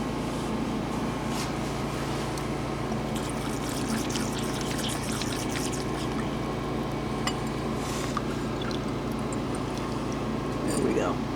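Water rinses material during gold processing, a steady running and sloshing wash that lasts throughout, heard close beneath people talking.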